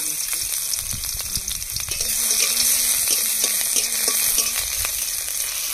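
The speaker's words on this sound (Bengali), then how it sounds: "প্রথমে লঙ্কা আর রসুন ভেজে নেব।" Crushed garlic and chili frying in hot oil in a home kitchen, a steady close sizzle and crackle throughout with occasional stirring clinks, no voices.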